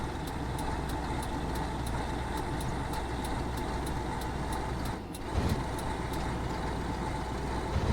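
A truck engine accelerates in a trucking video game, giving a steady, droning rumble with a faint ticking pattern over it and a brief dip and surge partway through.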